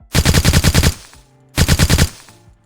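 Automatic weapon fire in the DropZone video game: two loud, close bursts of rapid shots, the first about eight rounds, a short pause, then a shorter burst of five or six, each trailing off into a brief ringing tail.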